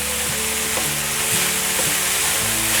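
Mushrooms are stir-fried in a wok as part of a home-style vegan dish, giving a steady loud sizzle with intermittent scraping and tossing strokes throughout, and no talking.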